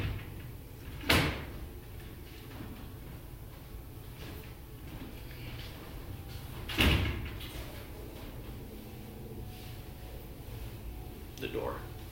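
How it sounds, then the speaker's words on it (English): Indoor door sounds: a sharp thud near the start and another around the middle, with a fainter knock near the end, each standing out over a steady room hum while someone talks. "The door."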